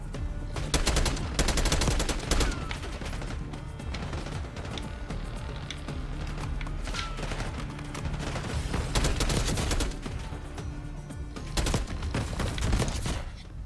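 Gunfire in the video game Call of Duty: Black Ops 6, dense bursts of automatic weapons and rapid single shots crackling nearly nonstop and loud over a rumbling battle background.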